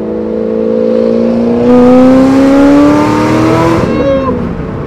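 Supercharged, cammed Corvette Grand Sport V8 revving hard, its loud engine note climbing steadily in pitch through a long pull before dropping off sharply on lift-off.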